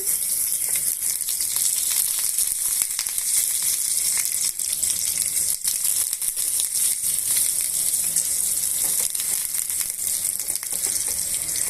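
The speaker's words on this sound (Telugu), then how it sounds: "ఆ పల్లీల్ని ఈ నూనెలో యాడ్ చేసుకోవాలి ఇందులోనే ఒక ఉల్లిపాయను కట్ చేసి వేసుకుంటున్నామండి" Peanuts and chopped onion frying in hot oil, a dense continuous sizzle and crackle at steady loudness throughout, with faint stirring underneath and no talking.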